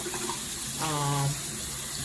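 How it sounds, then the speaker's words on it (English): Hot tap water runs steadily into a container being rinsed out, a continuous close splashing stream with a brief rise in pitch as it fills, no voices over it. "I cleanse mine out with hot water"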